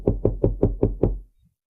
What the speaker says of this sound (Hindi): तभी कमरे के लकड़ी के दरवाजे पर बाहर से 3 बार भारी दस्तक हुई